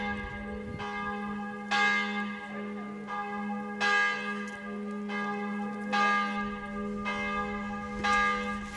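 A chapel bell rings at the island church on Lake Bled, its strikes arriving every second or two in a steady, resonant series over a sustained low hum, with no voices.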